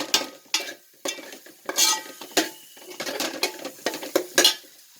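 Onions, ginger and garlic being sautéed for crab curry, heard as repeated close metallic scrapes and clanks of a spoon against the pan in an irregular stirring rhythm over a faint sizzle.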